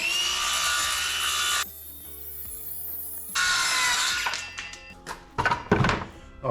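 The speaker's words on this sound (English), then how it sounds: "I picked up one of these cordless circular saws to make all this so much easier." A cordless circular saw cuts wood for a jon boat storage deck, giving a loud close whine that stops and restarts, then a series of knocks and clunks from handling the boards.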